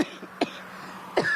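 An Italian-language TV news presenter coughs on air, two short sharp bursts about a second apart over a quiet studio background, with no talking between them.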